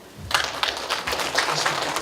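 A small audience of elderly people at a community meeting breaks into a short burst of scattered hand clapping, fairly close and moderately loud, with no voices over it.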